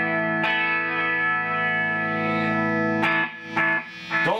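Crunchy distorted electric guitar through a Maxon effects pedal, sustained chords ringing out, then sharp strummed hits with short gaps near the end.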